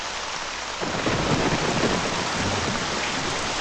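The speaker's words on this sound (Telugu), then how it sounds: "వర్షం పెరిగేటట్టుంది" Heavy rain pours down in a thunderstorm, a dense loud wash of falling water that swells after a quieter start and continues without voices.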